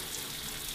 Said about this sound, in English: If I turn on the tap,